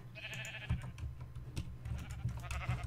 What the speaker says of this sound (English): get two more sheep